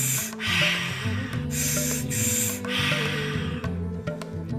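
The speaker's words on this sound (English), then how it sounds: "If it feels supportive for you, you can double time that breath." Quick double-time breathwork breathing, sharp rhythmic nasal inhales alternating with exhales in a fast steady pattern, close and audible over faint background music.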